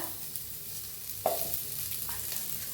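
Onions, garlic, ginger and tomatoes frying in a home pan, with a steady soft sizzle and a few scrapes and clinks as they are stirred, close and fairly quiet with no talk.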